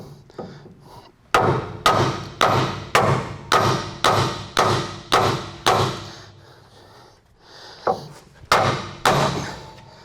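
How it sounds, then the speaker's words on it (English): A hammer bangs hard on the steering knuckle of a Toyota Tundra in a steady run of heavy strikes, pauses briefly, then lands three more sharp blows, close and loud. "Then take your hammer and just strike the side of the knuckle"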